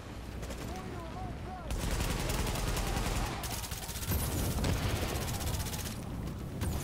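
Sustained automatic gunfire from a firefight in The Division video game, rapid bursts filling the scene with dense repeated shots over background game noise and occasional voices.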